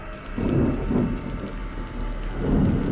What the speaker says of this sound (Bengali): বাজের তীব্র গর্জনের সঙ্গে বিদ্যুৎ চমকাচ্ছে সমান তালে বৃষ্টি পড়ছে